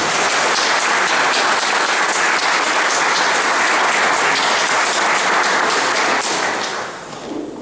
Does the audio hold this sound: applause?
yes